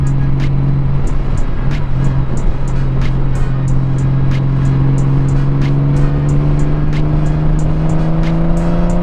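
A motorcycle ridden along a quiet back road gives a steady, loud engine drone with a constant low hum and rushing wind noise throughout, the pitch rising gently near the end as it picks up speed.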